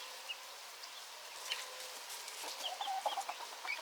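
Hens cluck softly in a barn, with scattered short clucks and murmurs from several birds over a constant airy background, growing a little busier toward the end, with no talk.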